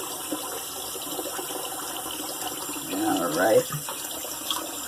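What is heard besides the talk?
water running from a tap into a sink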